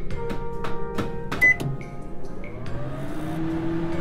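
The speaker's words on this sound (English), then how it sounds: "Start the microwave." A microwave oven starts up in a Minecraft machinima laboratory scene, with a few sharp clicks and beeps before a steady motorized hum settles in and runs evenly to the end.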